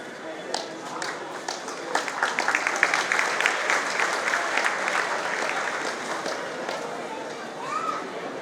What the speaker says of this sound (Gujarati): ખૂબ બધી તાળીઓના ગડગડાટ સાથે બાળકોને વધાવો